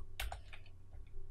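A short burst of typing on a computer keyboard, a few quick clicking keystrokes close up and fairly quiet over a low steady hum.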